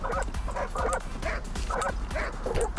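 Several dogs in the video game Tokyo Jungle bark and yip in quick repeated bursts, a steady rhythm of clipped barks at moderate volume with no talking over them.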